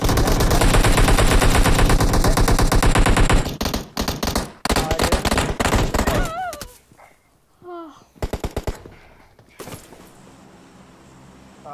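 Loud, sustained automatic gunfire in the PUBG video game, a dense burst lasting several seconds, then scattered shorter volleys and single shots with brief quieter gaps.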